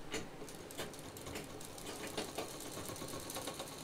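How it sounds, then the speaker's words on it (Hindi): A sewing machine double-stitches a handbag, its rapid rhythmic clatter running steadily and fairly quietly for the whole stretch, with no talking. "इस पर डबल मशीन चलाएं पूरे पर, क्योंकि इसके बाद हम खोल नहीं सकते"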